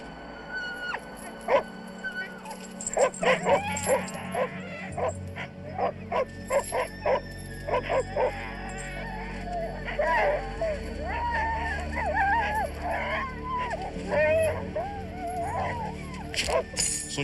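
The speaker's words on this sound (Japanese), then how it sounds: "鎖を切って最初に離れた犬はアンコだった" Sled dogs barking, yipping and whimpering in a rough chorus after breaking free of their chains, in Antarctica; repeated close barks and whines overlap throughout, with a low wind-like rumble beneath.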